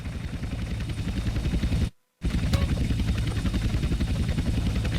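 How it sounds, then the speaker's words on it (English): Agency helicopters approach in the video game GTA San Andreas with a steady rotor chop, loud and continuous, broken by a brief moment of dead silence midway. "2 agency choppers coming in on an intercept."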